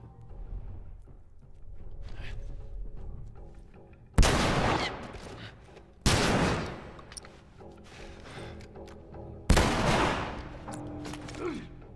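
Three loud, sharp bursts of gunfire in the video game The Last of Us Remastered ring out a few seconds apart, each decaying quickly, over a low background rumble.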